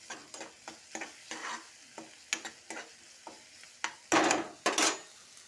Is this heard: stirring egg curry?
yes